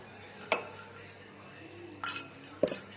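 A spoon clinks against a small bowl while mixing half a spoon of cream with a spoon of sugar into a face scrub, three quick light taps spread apart over a quiet background.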